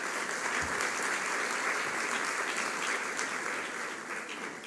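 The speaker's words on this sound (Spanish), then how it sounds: "Les pido que les demos un aplauso a nuestros panelistas" A conference audience applauds panelists at a high-level panel on business and politics, a dense, steady clapping that fills the room and tapers slightly at the end.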